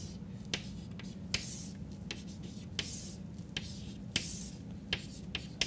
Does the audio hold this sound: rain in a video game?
no